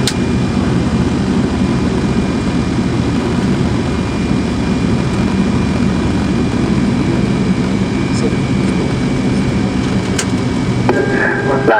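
A Fokker 100 jet landing at Woensdrecht Air Base with reverse thrust, heard as a loud, steady broadband engine roar from inside the aircraft throughout, with a brief voice near the end.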